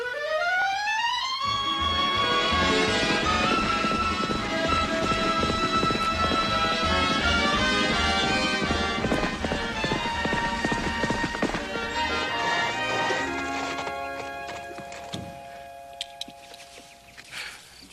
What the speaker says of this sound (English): This horse is going to take a whole lot more work before he's ready for Clancy